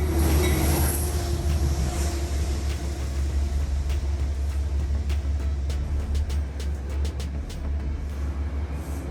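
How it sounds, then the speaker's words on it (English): Metro North commuter train bound for Poughkeepsie, led by P32 ACDM locomotive 221, slowing to a stop: a steady heavy low rumble throughout, with a high brake squeal near the start and faint clanks. "Metro North number 821 to Poughkeepsie slows to a stop, led by P32 ACDM number 221"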